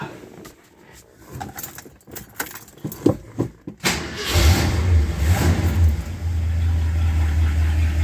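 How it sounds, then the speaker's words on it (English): A 1968 Ford XL with a twisted exhaust manifold begins with keys jangling and clicks, then the engine cranks, catches and settles into a loud, steady rumble with brief revs. "Let's put the battery on and crank it up and see how she sounds."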